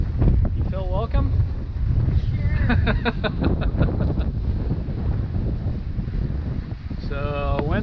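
Gusty wind roars across the microphone aboard a sailboat on Lake Michigan in building southwest wind near 20 knots, a constant loud rush with water noise beneath and a few short electronic chirps; one brief spoken word.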